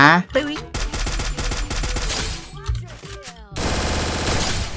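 Loud, rapid automatic gunfire in the mobile battle royale Free Fire comes in dense bursts separated by short pauses, with a brief spoken voice at the start.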